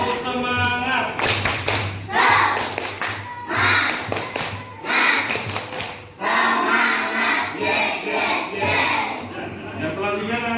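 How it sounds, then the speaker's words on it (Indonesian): A classroom of pupils performs a rhythmic group clapping routine, bursts of hand claps in a patterned beat mixed with children's chanting voices. "coba kita bersama-sama tepuk semangat"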